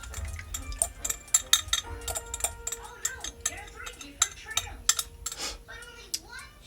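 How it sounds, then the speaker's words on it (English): A spoon stirs potato soup in a pot over medium-high heat, with a rapid series of close metallic clinks and scrapes while a voice talks intermittently. "Let's give this a nice stir."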